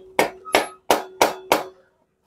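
Five evenly spaced hammer blows strike a metal bicycle pedal one after another, each with a short ringing decay, then silence.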